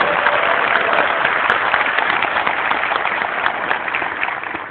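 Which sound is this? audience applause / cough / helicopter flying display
audience applause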